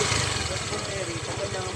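A motorcycle engine runs with a faulty noise, a low, steady rumble with a pulsing, uneven undertone beneath a person talking close by.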